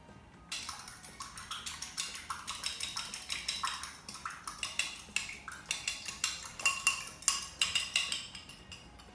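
Vinegar and sunflower oil are whisked into a vinaigrette, a steady rhythmic metallic clinking and tapping of a whisk against a bowl, quick repeated strokes running continuously and close up with no talk.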